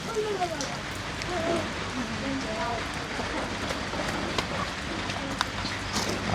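Rain falls steadily in a cold outdoor spot where a hut is being built, a continuous soft patter across the whole stretch, with someone talking over it and occasional faint chirps in the background.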